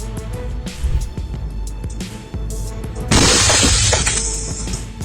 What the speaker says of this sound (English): breaking the windshield